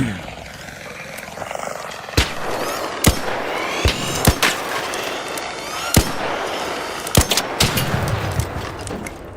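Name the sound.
gunfire in ARC Raiders video game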